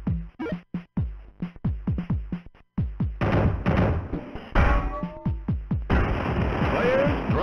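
A rapid series of sharp booming cannon shots in the video game Reset Generation, each decaying quickly, then denser overlapping blasts and rumbling explosions with game-like effects, loud and close.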